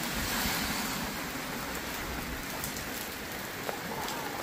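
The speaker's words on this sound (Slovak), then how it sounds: "Prší ako blázon, človeče" Heavy rain pours steadily on a Bratislava street on a cold November night, a dense, continuous hiss and patter close by with no voices over it.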